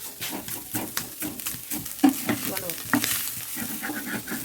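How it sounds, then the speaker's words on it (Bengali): Boiled chicken stuffing with onion, ginger, garlic and chili frying in a pan for momos, a steady close sizzle with frequent stirring scrapes and a few sharper clinks, no voices. "এখন মাংসটা ভাজা হবে ভালো করে"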